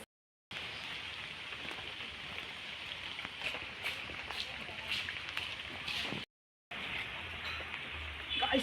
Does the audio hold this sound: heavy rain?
yes